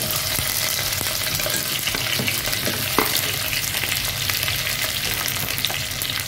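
Steady, loud sizzling of ivy gourd (kovakkai) and curry leaves frying in hot oil, with occasional stirring clicks throughout.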